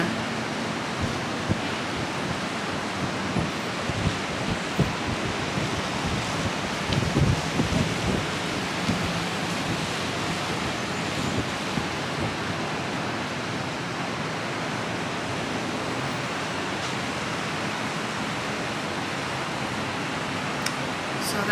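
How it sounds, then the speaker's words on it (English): Ocean surf and wind at a shore seen from a seating area in Miami, a steady broadband wash of waves with gusty wind noise against the microphone, continuous and fairly loud throughout with no talking. "Look at the ocean."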